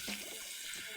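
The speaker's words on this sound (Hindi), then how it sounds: "ये पानी डाल देंगे।" A glass of water poured into a pan of sautéed potatoes and peas, a brief close gurgling splash heard alone.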